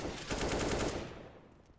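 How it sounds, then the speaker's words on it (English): A short burst of rapid automatic rifle fire in a competitive Counter-Strike match, a quick rattling string of shots lasting under a second, then tapering off. "Seeing that AWP jumping, and the AK of FNK will get the frag instead."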